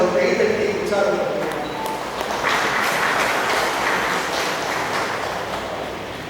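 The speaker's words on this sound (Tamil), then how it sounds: "அனைவரும் அவர்கள் கைத்தட்டி உற்சாகம்." Church congregation clapping together during a Sunday service, a dense sustained patter of many hands that swells and holds steady without pause.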